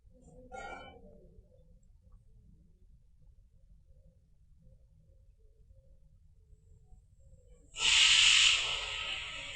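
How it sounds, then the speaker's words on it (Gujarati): A steamer cooking rava besan dhokla lets out a sudden loud hiss of steam near the end, after a long quiet stretch that holds only a brief faint sound early on. "હવે આ ઢોકળાને આપણે 20 મિનિટ સુધી સ્ટીમ કરી લઈશું"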